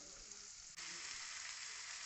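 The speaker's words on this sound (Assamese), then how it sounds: "পিঁয়াজখিনি ভাজিলোঁ" Chopped onions fry in a hot pan with a steady, close, loud sizzle that keeps going throughout, with only a momentary dip near the middle; no voices.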